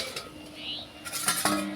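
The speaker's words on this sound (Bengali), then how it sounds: "এবার ঢাকনাটা তুলে নেব।" A plate used as a lid is lifted off a steaming pot of semolina papad batter, giving a couple of metallic clinks and scrapes about halfway through.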